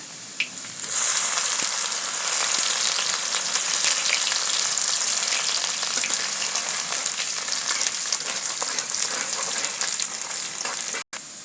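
Garlic and then ginger drop into smoking-hot oil and fry with a loud, dense, crackling sizzle. It bursts in suddenly and holds steady until an abrupt cut at the very end. There is no talking.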